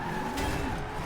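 Tires of a Chevrolet Corvette drift build on race tires squealing in a drift in Forza Horizon 2, a loud, continuous screech over the engine.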